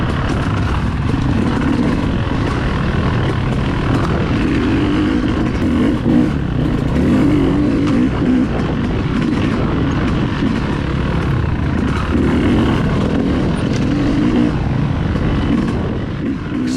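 Yamaha YZ250X two-stroke dirt bike with Renthal Enduro bend bars threading through narrow trees during a GNCC off-road race, a loud continuous engine drone with constant revving throughout.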